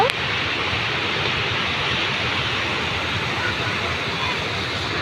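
Steady rushing water flowing through a canal in hilly surroundings, a continuous broadband wash with crowds of people nearby, constant and fairly loud throughout.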